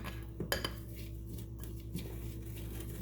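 A knife mixing semi-melted cinnamon bun filling in a bowl, producing a few faint clinks and scrapes of metal against the bowl over a steady low background hum.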